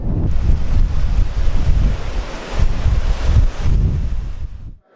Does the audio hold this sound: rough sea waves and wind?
yes